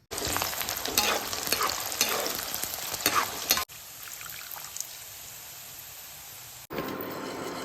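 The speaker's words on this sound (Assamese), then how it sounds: "কেৰাহী গৰম হৈ গৈছে আৰু ইয়াতে পিঁয়াজখিনি ভাজি ল'ব লাগিব।" Chopped onions fry in oil in a hot kadai (wok), giving a loud, continuous sizzle with stirring scrapes, then a brief break and a quieter steady hiss before it flares again.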